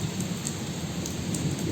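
Heavy rain pours down with strong wind, a loud, dense, unbroken roar of drops and gusts filling the whole stretch with no one talking.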